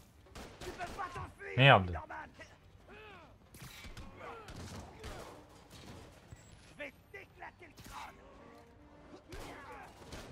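Gunfire in Spider-Man: Miles Morales, with a loud bang early on followed by scattered thumps and impacts mixed with game effects, while someone talks over the action throughout.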